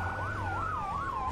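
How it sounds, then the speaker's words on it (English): Wailing fire truck siren from the Firefighting Simulator video game, a steady rising-and-falling electronic sweep that carries on loudly and alone throughout, with no voices over it. "Turn on them sirens, baby."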